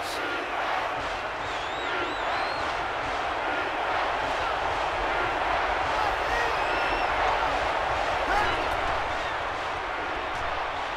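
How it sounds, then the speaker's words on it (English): Steady, dense crowd roar from a college football video game, Ole Miss against Texas El Paso, filling the whole stretch at a constant loud level with a commentator's voice faintly woven through it. "This crowd a huge factor right now against this offense."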